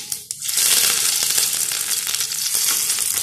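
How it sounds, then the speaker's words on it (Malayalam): Curry leaves hit hot oil with popping mustard seeds while making pineapple chutney, producing a loud, steady, crackling sizzle up close with no talk. "കടുക് പൊട്ടി തുടങ്ങുമ്പോൾ നമുക്കതിലേക്ക് കറിവേപ്പില ചേർത്ത്"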